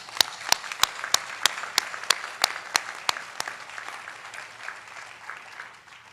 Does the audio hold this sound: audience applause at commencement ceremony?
yes